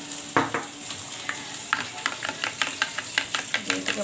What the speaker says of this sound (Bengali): ভালো করে আলুটা ভেজে নেব